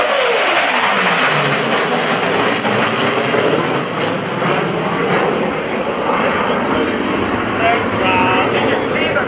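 A military jet roars past with afterburners engaged at a naval air station airshow, a loud sustained broadband rumble and roar that fills the whole stretch, with a pitch sweep as it passes.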